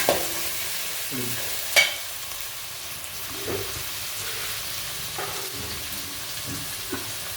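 Onions with curry leaves sautéing in a pan, a soft steady sizzle with occasional spoon scrapes and taps, near and without talk.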